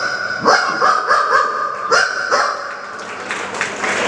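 A person imitates an Alsatian dog at a school anniversary celebration, giving a series of loud, close barks in a quick uneven rhythm, with crowd noise and scattered applause rising toward the end.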